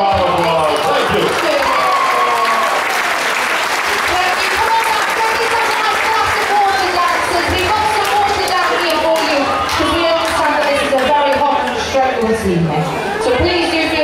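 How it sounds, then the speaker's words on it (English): An audience aboard the cruise ship Grandeur claps steadily and loudly for an eliminated couple at a shipboard dance contest, with scattered cheers and crowd chatter running beneath the sustained applause. "Give them all a big round of applause."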